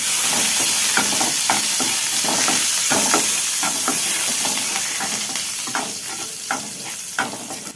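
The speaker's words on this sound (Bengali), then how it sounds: "মশলাটাও দিয়ে দেবো, দিয়ে ভাজা ভাজা করে নেব।" Spice paste with onion frying in a pan for Bengali sorshe potol, stirred steadily: a loud, continuous sizzle broken by repeated scraping strokes of the spoon, with no talking.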